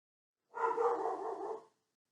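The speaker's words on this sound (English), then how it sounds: "We've got a barking dog and a screaming baby" A single muffled dog bark, or a short drawn-out woof, lasting about a second against otherwise silent surroundings.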